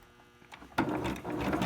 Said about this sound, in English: I'm going to back stitch real good over the elastic